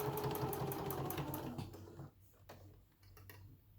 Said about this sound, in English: Drop my needle in, and I sew pretty close to the edge.